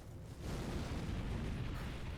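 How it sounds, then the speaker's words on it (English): Explosion in the video game Elden Ring, a broad rumbling roar that swells after a brief moment and then sustains as a steady, moderately loud blast wash. "Is that an explosion?"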